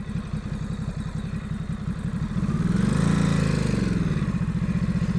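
Ducati Supersport S motorcycle ridden down a hill, its engine a steady pulsing drone that swells louder and smoother midway as it passes close, then holds a continuous rumble.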